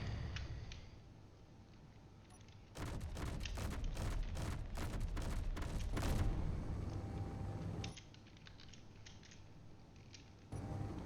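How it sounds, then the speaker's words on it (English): Rapid bursts of assault cannon fire in Space Engineers from a Sparrow gunship, about a dozen loud, closely spaced booming shots in a steady rhythm over a low mechanical hum, then the hum continues alone. "Assault cannon, yes."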